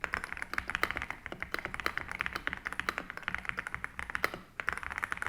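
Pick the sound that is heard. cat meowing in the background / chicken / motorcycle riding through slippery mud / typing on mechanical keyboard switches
typing on mechanical keyboard switches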